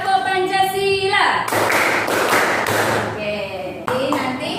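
Schoolchildren in a fifth-grade class at SDN Kayuapak 01 perform the Tepuk Pancasila clapping chant, a loud burst of rhythmic group clapping between sung or chanted voices.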